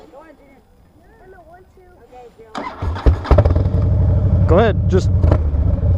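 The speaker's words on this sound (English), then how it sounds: "You want to turn the throttle?" A Harley-Davidson Dyna motorcycle engine fires up after a quiet stretch with talk, then revs hard with throttle blips and a loud, rough rumble that holds steady, people speaking briefly before and around it.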